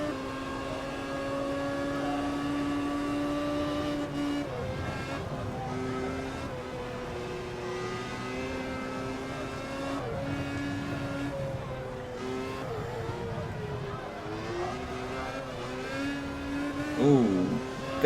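Open-wheel race car engine during a 2015 practice session holds a steady, droning high note, then wavers and flutters as the throttle dips and recovers, loud and close under a continuous roar.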